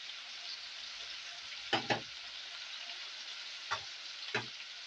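Tender bites of premium meat frying in hot oil, a steady close sizzle and crackle running throughout, with a few sharp clinks of a utensil stirring the pan.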